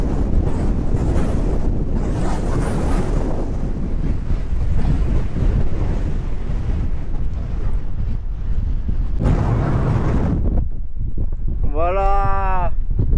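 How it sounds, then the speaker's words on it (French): Strong, sustained wind gusts buffet the microphone on a mountain hiking trail at the Grand Ballon, a steady roaring rush throughout, with a brief whistling tone near the end. "Il y a un vent de malade, j'espère que vous m'entendez bien."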